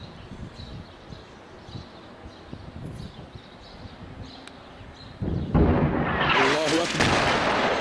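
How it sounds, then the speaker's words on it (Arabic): Heavy artillery shelling strikes Talbiseh in Homs, Syria, in 2012, first as distant rumbling booms under faint voices, then as a sudden loud, sustained roar near the end. Someone speaks over it. "قصف بالمدفعية شديد على المدينة"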